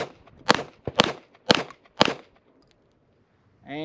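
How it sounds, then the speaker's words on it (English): Pistol shots fired on a shooting range, a quick, evenly spaced string of sharp, loud cracks, followed by a short quiet stretch. "And five shots, nice and easy, nice and simple"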